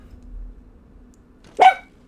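A single short dog bark rings out near the end of a quiet stretch in Castlevania: Lords of Shadow, loud and close against faint background hum.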